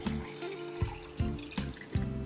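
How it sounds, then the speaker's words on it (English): Lemonade pours steadily into a glass, a soft gurgling stream with a few small splashes, close and fairly quiet. "I'm gonna pour mine into a glass cup."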